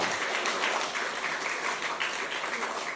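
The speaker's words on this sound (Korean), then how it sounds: "박수 좀 한번 해주세요" Sustained applause from a church congregation during a worship service, dense steady clapping from many hands filling the room at an even level for a few seconds.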